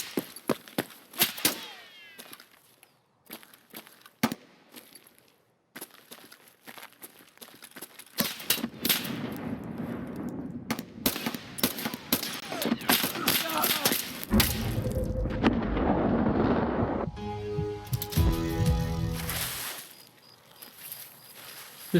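Gunfire in the shooter game Escape from Tarkov, with bursts of rifle shots at a distance, rapid cracking volleys and dense sustained firing mid-clip, under a voice talking over much of it.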